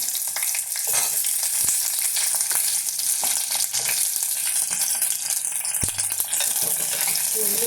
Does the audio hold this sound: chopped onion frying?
yes